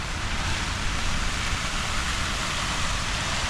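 A water fountain at the Hagia Sophia in Istanbul runs during rain, giving a steady, continuous broadband rush of splashing water and rainfall with no clear pauses, close and fairly loud.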